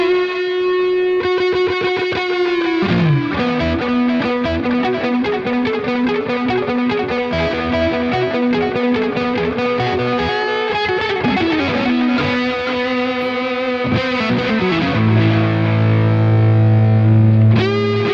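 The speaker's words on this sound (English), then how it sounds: "And then tape delay sounds like this." Electric guitar notes run through the tape delay setting of a Fender Reflecting Pool delay and reverb pedal, each phrase trailing into slightly gritty, repeating echoes that stack and sustain loudly with no talking.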